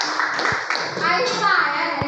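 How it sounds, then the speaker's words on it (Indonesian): Schoolchildren in a classroom clap together briefly, a short burst of hands mixed with children's voices talking over it. "Iya, tepuk tangan dulu."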